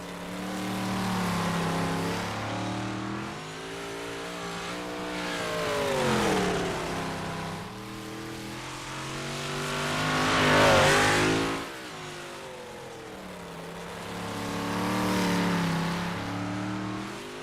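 Dirt race car number 83 lapping Cedar Lake in a racing video game, its engine note climbing and falling in long, loud revving waves as it accelerates down straights and backs off into turns.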